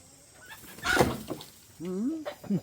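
A chicken clucks and warbles close by, a few short rising-and-falling calls with brief pauses, alone without talk.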